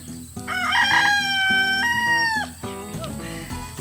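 Chickens in a backyard coop where Whiting True Blue hens lay eggs, with a loud close rooster crow rising and holding before breaking off, followed by clucks and squawks from the flock.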